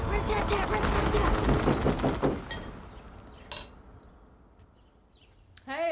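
Rapid bursts of gunfire rattle loudly over clattering metallic noise in a comedy horror film scene, then fade into quieter room tone with a single sharp crack and a brief tonal sound at the end.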